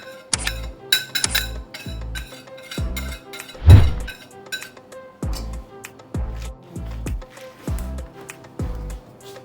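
Banana bread batter stirred with flour in a bowl: a utensil knocks and clinks against the bowl in a steady repeated rhythm, close and fairly loud, with one heavier thud midway and no talking.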